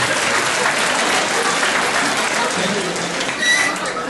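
Audience applause at a stand-up comedy show, a steady, dense wash of clapping that continues for about four seconds with no voices over it.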